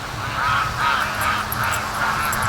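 Free-range ducks calling as they return on the wind, a steady stream of honking, quacking calls from a flock at a short distance, with wind noise underneath.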